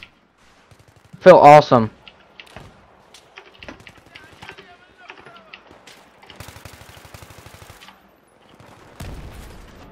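An A-91 rifle in Battlefield 3 fires one short, loud, close burst near the start, followed by faint clicks and sparse game sounds while a player talks over it.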